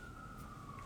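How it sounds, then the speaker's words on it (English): A siren wails on a street in Midtown Manhattan, a steady high tone heard faintly at a distance over low city rumble. "There's lots of sirens going off here in Midtown Manhattan."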